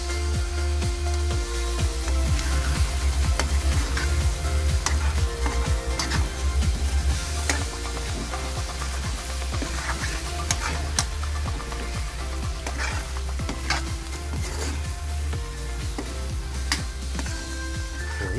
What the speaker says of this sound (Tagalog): Binating itlog. Ayan. Haluin, haluin, haluin.